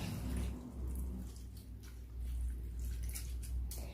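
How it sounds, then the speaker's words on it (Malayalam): Water pours steadily into a bowl of sliced onions for salad, a quiet continuous splashing and trickling heard alone, with no voices. "ഇനി ഇതിലേക്ക് വെള്ളം ഒഴിച്ച് വെക്കാം."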